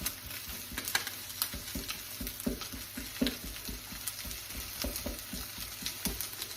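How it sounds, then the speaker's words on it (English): An egg fries in sesame oil in the middle of a pan of fried rice, giving a steady close sizzle and crackle with small popping spatters throughout, no voices. "See the egg cooking in the center of all that rice?"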